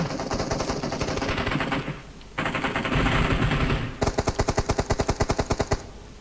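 Rapid bursts of automatic gunfire in PUBG Mobile, with a longer rattling volley at the end and a short pause between bursts.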